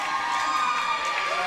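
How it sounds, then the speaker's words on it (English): A roller derby crowd cheers and shouts continuously, a dense, lively roar of voices with some higher children's yells mixed in, no individual speaker standing out. "the crowd, you might notice, getting a little pumped up"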